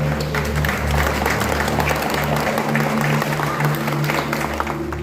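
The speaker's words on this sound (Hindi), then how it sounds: "तो ताली तो बनता है।" Congregation applause at a Catholic church farewell ceremony, a steady diffuse patter of clapping over a constant low electrical hum, continuing evenly for several seconds without talk.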